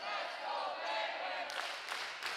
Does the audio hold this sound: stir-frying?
no